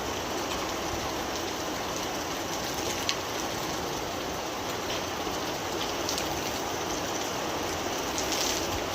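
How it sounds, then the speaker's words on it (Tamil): Constant morning rain pouring down in Karamadai with a broad, even hiss, with occasional faint drips and taps standing out against the steady downpour. "எது காலையில் மழை பெஞ்சுது"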